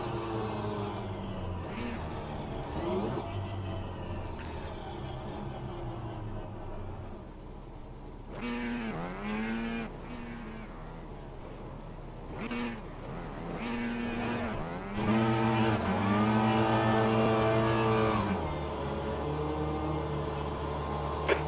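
A Mini race car engine in rFactor 2 at Donington Park revs and climbs through the gears, its pitch repeatedly rising then dropping at each shift, growing louder and harsher toward the end.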